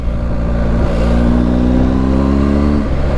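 A BMW R1250 GS boxer motorcycle engine runs close and loud, a steady throaty rumble with a slight rise in pitch as it revs.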